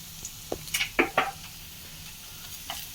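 Ginger garlic paste fries in hot oil with turmeric for kadai paneer, a soft, continuous sizzle broken by a few close scraping stirs of a spoon in the pan, with no voices.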